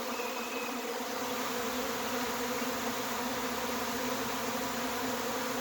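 A honeybee swarm fills the air with a dense, steady buzzing drone that holds at an even level throughout, close and enveloping, with no voices.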